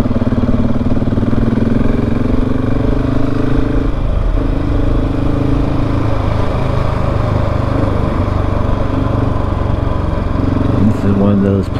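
A motorcycle engine drones steadily and loudly throughout a ride on the Alpine Loop near Sundance, with wind buffeting and a rider talking over it.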